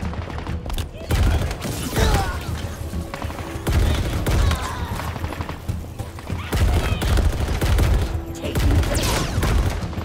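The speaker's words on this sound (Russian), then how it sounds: "А, вот второй пулемет." Machine guns fire in the Halo Infinite video game in sustained, dense bursts of rapid shots amid booming battle noise, with a player talking over the gunfire.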